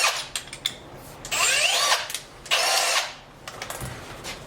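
A countersinking tool cuts a valve guide in a V8 cylinder head. The cutter gives two strong grinding bursts between lighter clicks and handling noises, all close up.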